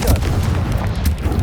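Repeated Confringo spell blasts in Hogwarts Legacy, loud booming bursts fired in quick succession over a dense, rumbling battle din.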